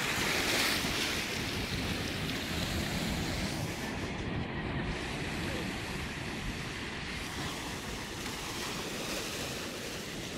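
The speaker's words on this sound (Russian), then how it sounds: "Офигеть, волна, да?" Ocean surf roars continuously, waves crashing close by with a heavy wash of water and some wind buffeting.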